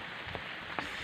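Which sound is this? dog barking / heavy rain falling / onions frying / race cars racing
heavy rain falling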